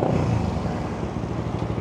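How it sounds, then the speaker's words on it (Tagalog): Suzuki GSX 150 motorcycle engine being test run, a close, loud, steady low rumble with no speech. "Testing natin yung motor niya guys."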